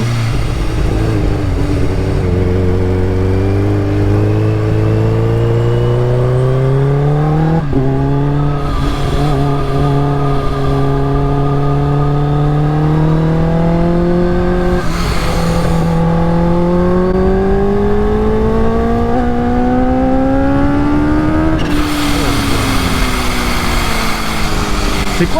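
A 280 hp Kawasaki H2 supercharged motorcycle engine revs hard and climbs through the gears, its pitch rising in long loud sweeps broken by brief shifts, close and dominant with no talking.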